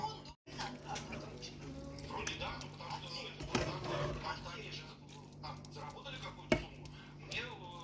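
Stuffed pepper filling stirred in a pan, a spoon scraping and occasionally knocking against the pan with a louder clack, while a person talks quietly in the background.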